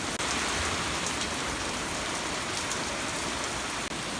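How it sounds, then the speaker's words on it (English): Steady, dense rain pours down continuously, a loud broadband hiss of drops striking surfaces close by, with no voices. "It's raining even harder up north of me."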